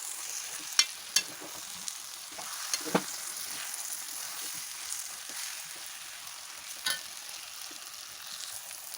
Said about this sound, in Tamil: இதை வந்து இனி நல்லா வணக்கலாம்